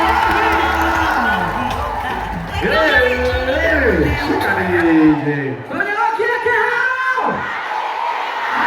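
A crowd cheers and shouts for MP Ndindi Nyoro at a Kiharu gathering, with loud overlapping voices and whoops that swell and dip.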